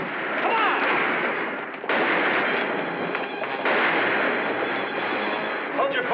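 Gunfire in a shootout around a house, dense continuous crackling shots that are loud and close, with a brief break near two seconds before the firing resumes.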